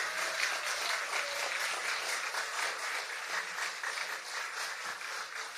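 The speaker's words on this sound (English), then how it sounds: "please another big round of applause" A live event audience applauds after a music performance, a steady, fairly soft wash of many hands clapping that holds evenly throughout with no voices over it.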